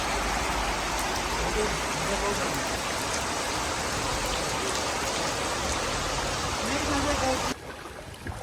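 Heavy rain pours down in Dammam, a dense, steady hiss of water drumming on surfaces that stays loud and unbroken before dropping off abruptly near the end.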